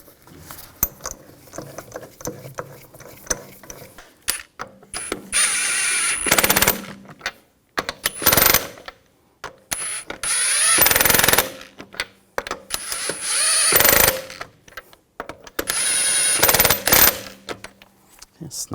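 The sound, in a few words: tightening wheel lug bolts on BMW X5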